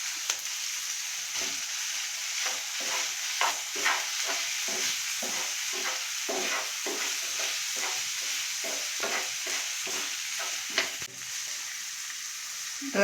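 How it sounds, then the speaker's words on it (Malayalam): Fried chicken is stirred into a pan of sizzling chilli sauce, with a steady hiss of frying under rhythmic scraping strokes of a spoon, close and continuous without any talk. "വറുത്ത് വെച്ചിരിക്കുന്ന ചിക്കൻ ഇടാം."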